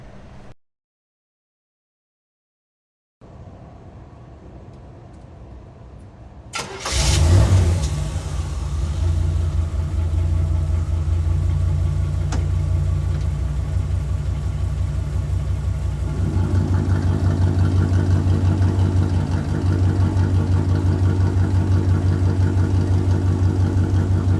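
A 1976 Corvette Stingray's engine cranks briefly and catches with a loud burst, then settles into a steady, rumbling idle. The idle grows a little fuller partway through, and no one speaks.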